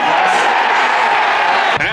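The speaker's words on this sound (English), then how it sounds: "And the crowd goes wild." A football crowd at an Aldershot versus Dagenham and Redbridge match roars in a dense, continuous wall of cheering close around the listener, ending with a brief dip and a muffled bump.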